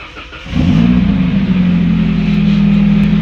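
A Nissan 240SX (S13) engine with a brake booster vacuum leak cranks and catches, then settles into a steady, loud rumbling idle close by.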